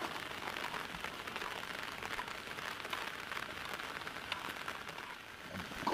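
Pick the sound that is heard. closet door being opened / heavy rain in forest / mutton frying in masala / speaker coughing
heavy rain in forest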